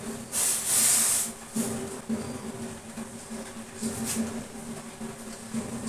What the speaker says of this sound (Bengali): চাটা ছেঁকে নেব।